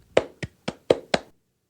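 One person claps their hands five times in a quick, even rhythm, each clap sharp and close, then silence.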